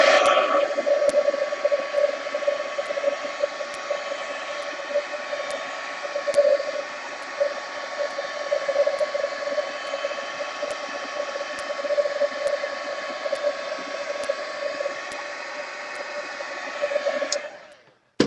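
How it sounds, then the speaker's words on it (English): Heat gun blowing steadily to dry a mixed media art page, a continuous airy roar with a whining tone running close and loud for nearly the whole stretch before cutting off. "heat gun"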